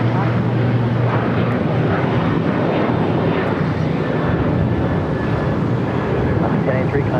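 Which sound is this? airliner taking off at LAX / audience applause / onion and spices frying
airliner taking off at LAX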